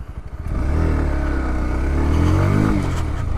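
Close and loud, the 160cc engine of a 2021 Bajaj Pulsar NS160 motorcycle settles into a steady running drone after a brief choppy start, its pitch swelling gently as the throttle is eased up and back.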